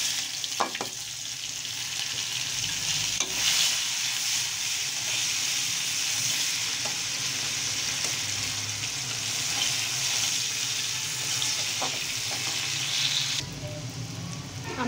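Cumin and whole spices frying in hot oil in a pan, a steady close sizzle that holds evenly throughout with a few faint clinks, no talking.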